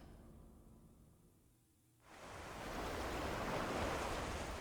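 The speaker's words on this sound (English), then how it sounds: "I can tell from the sounds of the waves" Ocean waves wash onto a beach in the Death Stranding video game, a steady loud surf roar that swells in after a quieter windy opening and keeps rolling without any talk.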